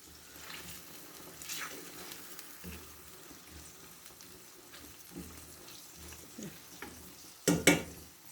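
Eggs go into an aloo salan of potatoes simmering in a pan, with faint sizzling and light stirring scrapes, a few soft clinks, and a sharp louder clatter near the end, all without talk.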